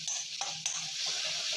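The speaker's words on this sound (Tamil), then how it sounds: "ஃபஸ்ட்டு பெரிய வெங்காயத்தை போட்டு வதக்கணும்" Large onions frying in a pan with green chillies and tomatoes, cooking for Egg Maggi noodles, giving a steady soft sizzle with a couple of brief clinks and scrapes of stirring over 1.6 seconds.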